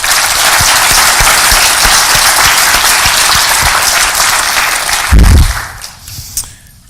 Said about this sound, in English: I would like to take the opportunity to have everyone give a round of applause to the organizers